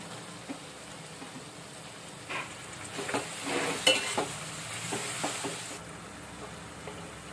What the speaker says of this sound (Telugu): టమాటోలు వేసుకుందాం.